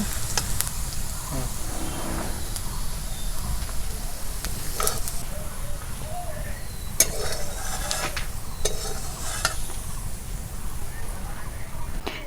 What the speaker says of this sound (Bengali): এবার কিছুটা পেঁয়াজ ভেজে নেব